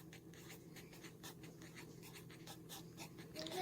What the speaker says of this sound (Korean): 자, 그러면 그대로 한번 써볼게요.